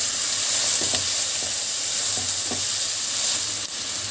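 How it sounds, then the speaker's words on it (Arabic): Diced tomatoes fry in a pan with a steady, loud sizzle and hiss, broken by a few soft clinks of a utensil against the pan. "هنزل بقى معايا بايه مكعبات الطماطم"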